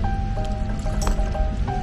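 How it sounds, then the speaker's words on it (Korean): Water is poured and sloshed around at a beach campsite, a steady wet splashing and dripping texture close by with no talking. "물을 붓고 얘를 첨벙첨벙 해야겠어."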